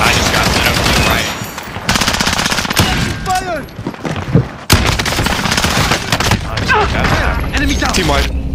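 Dense automatic gunfire and bursts of shots in the online shooter Warzone, loud and nearly continuous with brief pauses and sharp blasts, while players talk over the fighting.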